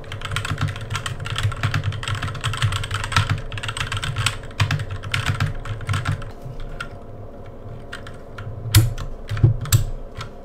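HK GK61 60% mechanical keyboard with brown switches, typed in quick, dense bursts of close clacks and thocks with short pauses, ending in a few sharper key strikes, alone with no voice.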